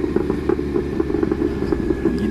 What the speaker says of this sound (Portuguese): Então a gente só vai com o freio motor, né?